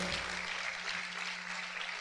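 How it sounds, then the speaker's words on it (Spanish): A church congregation claps together during a sermon, a brief, continuous wash of applause heard at moderate level with a low hum underneath. "Vamos a aplaudir fuerte al Señor."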